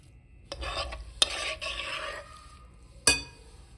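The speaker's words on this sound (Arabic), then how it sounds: "نقلب البصل مع السبانخ." Cooled sautéed onion being stirred into wilted spinach in a bowl for spinach pastries, giving soft wet mixing and scraping sounds with a few sharp clinks of a utensil against the bowl, close and alone.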